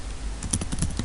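Typing on a computer keyboard while entering a condition into a patient management registry system, several quick key clicks in an uneven run, close and fairly clear with no talk.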